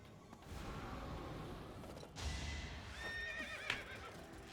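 In the video game Fire Emblem Three Houses, a horse lets out a shrill, whinnying neigh near the end, over a low battle rumble and a thud, with no voices.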